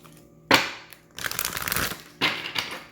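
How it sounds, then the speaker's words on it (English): Tarot cards being shuffled by hand, three quick rustling riffles in succession, close and fairly loud, with short pauses between bursts. "Let me get a good shuffle."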